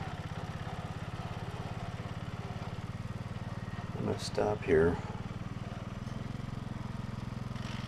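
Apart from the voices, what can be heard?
1970 John Deere 110 lawn tractor engine running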